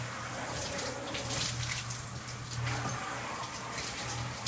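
Tap water runs steadily and close, splashing and gushing as a fencing lame, glove or mask is rinsed under it, with small surges in the flow and no talking.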